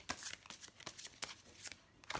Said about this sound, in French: toutes les cartes sont mélangées ici